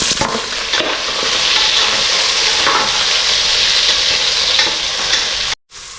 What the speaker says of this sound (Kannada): ಇದಿಷ್ಟು ಹಾಕಿ ಈಗ ಈರುಳ್ಳಿ ಹಾಕೋಣ.